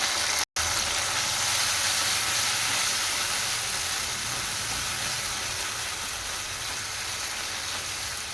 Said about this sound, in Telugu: టమాటా ముక్కలు బాగా ఉడికేంత వరకు ఇలా కలుపుతూ ఉండాలి